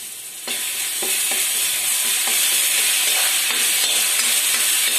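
Tomatoes are tipped into browned onions frying in a pan, setting off a loud, steady sizzle with faint scraping stirs throughout, no voices.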